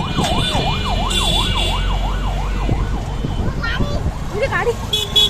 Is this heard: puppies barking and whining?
no